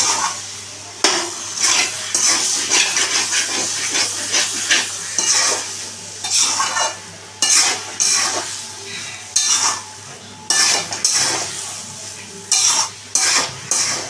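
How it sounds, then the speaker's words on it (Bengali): Fish head and cabbage stir-fried with shahi garam masala in a pan, a loud sizzle broken by repeated bursts of spatula scraping and clattering against the pan at close range, no voices. "শাহি গরম মশলা দিয়ে দিলাম। দিয়ে আবার এটাকে আমি ভালো করে কষিয়ে নিচ্ছি।"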